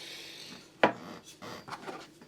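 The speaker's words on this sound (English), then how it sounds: "And then we start tapping." A fret hammer taps frets down on a Harley Benton ST Modern electric guitar, giving one crisp, close knock followed by a few softer taps, all quiet and spaced irregularly.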